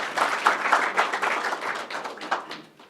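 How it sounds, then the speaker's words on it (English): Brief burst of audience applause, many hands clapping in a close, uneven patter that fades slightly toward the end. "Congratulations, let's clap for them."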